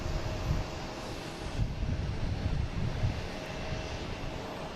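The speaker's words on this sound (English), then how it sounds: "we have a JetBlue taking off to Cleveland" A JetBlue airliner taking off gives a continuous, moderately loud jet roar with broad rumbling low end and wind-like hiss, steady throughout.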